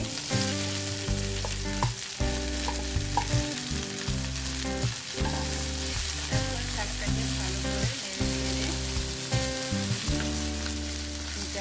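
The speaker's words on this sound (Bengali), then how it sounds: "এখন আমি এখানে শাকগুলো দিয়ে দিচ্ছি" Steady sizzling of jute greens frying with garlic in a hot pan, continuous crackle with music playing underneath throughout.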